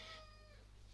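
A pet cat meows once, a clear drawn-out tonal cry that fades over about half a second, heard alone indoors against a low steady hum.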